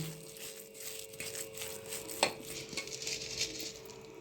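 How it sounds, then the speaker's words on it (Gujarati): Soaked moong dal batter is stirred together with gram flour, giving quiet wet scraping and stirring strokes with one sharper clink of a utensil, close and low in level, with no talk. "પલાળી અને આવી રીતે બધું એને મિક્સ કરી લેવાનું।"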